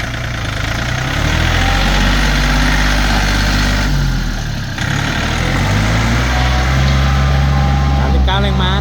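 A 2018 Yanmar EF393T four-wheel-drive tractor with a three-cylinder engine idles nearby, a loud, steady low diesel throb that briefly dips partway through before settling back to an even idle.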